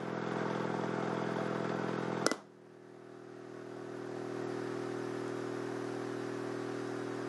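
An AC motor driven by a subwoofer-powered generator hums steadily, breaks off with a sharp click, then its tone dips and gradually builds back to a constant whir.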